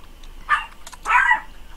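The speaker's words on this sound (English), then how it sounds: "Oh, doggy!" A dog barks twice at close range, a short yip followed by a longer, louder bark, in a quiet room with faint clicks in between.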